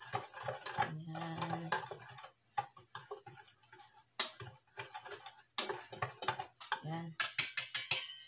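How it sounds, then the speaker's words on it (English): Spoon stirring banana cake batter in a bowl, with light repeated clinks and scrapes in an uneven rhythm, close by, while someone speaks over it. "Haluin mo lang siya."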